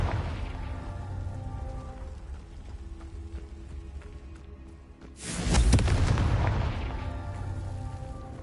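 A Confringo blasting spell in Hogwarts Legacy sets off a sudden booming explosion with a crackling, rumbling tail, rising out of a quieter patch of ambient game noise before fading back.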